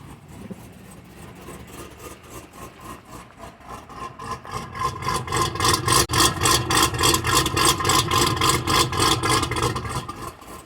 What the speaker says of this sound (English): This is what it sounds like on tour mode.